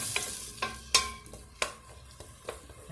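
A spoon stirs onion and tomato sauce frying in a pan, giving a soft sizzle broken by several sharp scraping clicks at irregular intervals, quiet and close with no talking.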